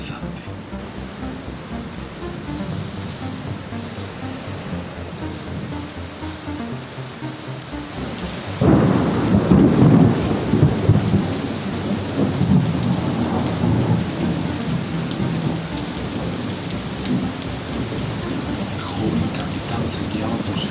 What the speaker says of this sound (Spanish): La tormenta era incesante.